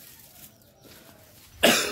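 A single sharp cough bursts out near the end of a quiet early-morning village scene, close and loud after faint background ambience.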